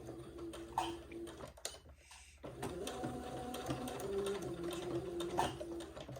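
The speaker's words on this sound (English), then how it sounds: "I need to have some room to sew my entredeux and gathered lace to the leg opening" A sewing machine stitches entredeux and gathered lace onto the leg opening of a baby layette garment, running with a steady rapid mechanical whir and a short pause near the two-second mark, fairly quiet and close.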